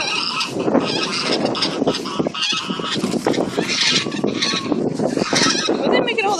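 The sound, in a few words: geese honking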